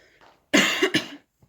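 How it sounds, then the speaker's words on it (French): A woman coughs twice in quick succession, close and loud, after a faint breathy sound; a tiny click follows. "Je suis désolée, je commence à tousser."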